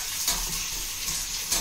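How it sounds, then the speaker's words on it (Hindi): Onions frying in a pan for egg bhurji give off a steady, close sizzle with soft crackling bursts and no talking. "अंडे की भुर्जी का प्याज भून रहा है"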